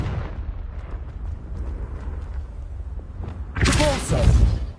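Confringo fire spell exploding in Hogwarts Legacy, a sudden loud burst near the end after a stretch of murky game ambience and rumble.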